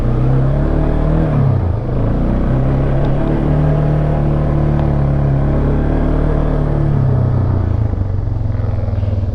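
A 2001 Yamaha Bear Tracker 250 ATV pulls away with a steady, loud engine rumble that holds fairly even throughout, the note dipping briefly early on before settling into a continuous drone close by.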